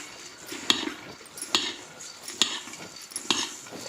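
Spoon scraping and clinking against a deep metal vessel while masala puffed rice girmit is mixed, four sharp evenly spaced strikes with soft rustling of the puffed rice between them, close and clear with no talking.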